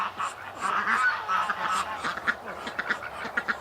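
Geese honking and calling in a busy cluster, several overlapping nasal calls up close with short bursts continuing throughout, no talking.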